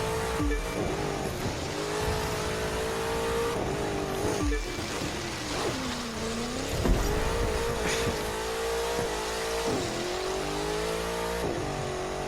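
A race car in The Crew 2 on ice with nitro, its engine roaring loudly and continuously, revs rising and dipping through gear shifts and drifts, with tire squeal and skidding mixed in close up.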